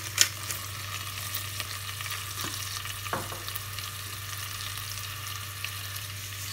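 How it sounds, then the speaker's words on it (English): Diced onions fry in a pan with black pepper for lasagna, giving a steady close sizzle with a few soft scrapes and taps of stirring, and no talking. "Then we're going to add our diced onions."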